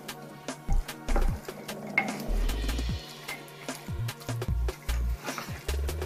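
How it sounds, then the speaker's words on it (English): Spoon stirring boiled beans and other ingredients in a crock pot, with repeated scraping knocks and low thuds coming in an uneven rhythm, close and fairly loud, with no talking. "I'm going to stir all of this"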